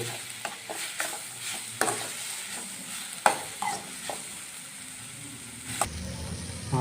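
Fenugreek chicken masala frying deeply in a pan, with a continuous sizzle and occasional sharp scrapes and clinks of a spatula stirring, close by.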